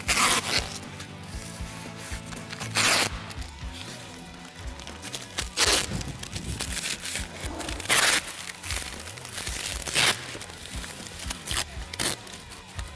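Masking tape and plastic sheeting applied by hand for masking before painting, with repeated close crinkling, rubbing and tearing sounds in bursts, louder at intervals, no talk.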